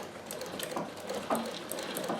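A Singer sewing machine fitted with a zigzag attachment, running steadily in close range with a fast, even mechanical ticking and clatter throughout, no voices.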